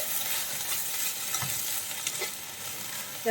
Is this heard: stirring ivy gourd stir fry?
yes